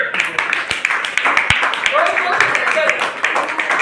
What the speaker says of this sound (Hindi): आराध्या के लिए तालियां